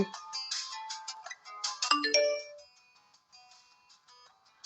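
A phone ringtone in an animated horror story rings out clearly in a melodic electronic tune, with bright, busy tones at first that thin into sparser, quieter notes, alone and without talk.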